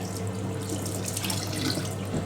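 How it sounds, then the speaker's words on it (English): Excess water pours and trickles steadily from a 1980s Ariston by Colston Electronic 3000 spin dryer, a close, continuous splashing drain heard alone. "If there's any excess water, we'll just tip it into the cabinet as well."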